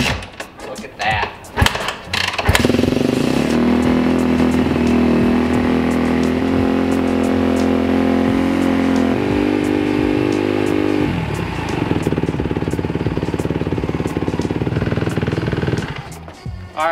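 A Kawasaki KX250F dirt bike, choke on, starts with sputtering clatter, then settles into a loud, steady idle that warms up close by, its tone shifting slightly midway before fading at the end.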